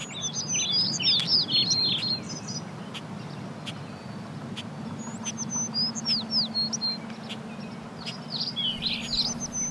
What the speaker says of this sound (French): Ici, il n'est pas rare d'intercepter des conversations entre les oiseaux.